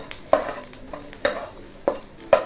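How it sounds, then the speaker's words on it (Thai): Dried chilies dry-roasting in a pan without oil, with four sharp scraping stirs at a steady rhythm over a faint, dry crackling sizzle, all close up. "เดี๋ยวคั่วอีกสักนิดนึงก็ได้ที่แล้ว"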